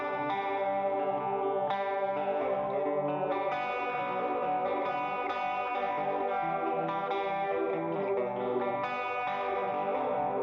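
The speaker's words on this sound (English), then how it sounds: "So it gives you a lo-fi bit crushing sound. So here's the junky sound they call it." A guitar plays through a lo-fi, junky bit-crushing effect preset, producing a gritty, chopped, distorted tone across a continuous run of chords and notes, steady and loud without any speech.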